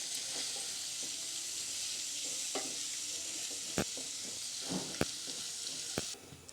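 Chopped egg is stirred into masala in a hot pan for egg rice, giving a steady close sizzle with scattered spoon scrapes and clicks, the frying dropping away abruptly near the end.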